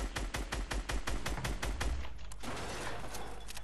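Rapid bursts of gunfire in a Fortnite tournament match: a dense run of evenly spaced shots, close and sharp, then trailing into a noisier wash of distant fire.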